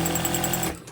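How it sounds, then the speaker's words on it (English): A powerful industrial sewing machine runs at a fast, steady hum with rapid needle stitching while sewing a fabric hospital mask, then abruptly stops near the end. "This is a big power machine, but these are just as easy to make at home on your Singer sewing machine."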